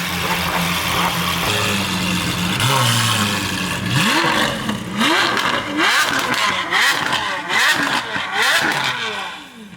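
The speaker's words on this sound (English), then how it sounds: "Doesn't have the high-pitched noise, but still has that V12 sound." A Lamborghini with a V12 engine revs hard nearby, giving repeated loud rising and falling blips and roars that grow busier toward the end, with no voices.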